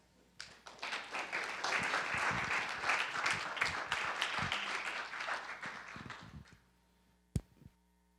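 A lecture-hall audience applauds to welcome a professor at a humanities forum, steady dense clapping that swells, holds for several seconds, then fades out, followed by a single sharp knock.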